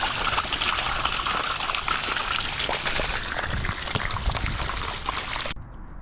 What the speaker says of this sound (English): Draining the jacuzzi.